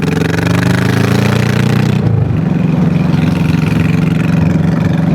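Honda Shadow 1100 bobber motorcycle riding, its engine droning loudly and steadily throughout, with a brief dip and shift in pitch partway through as it changes speed.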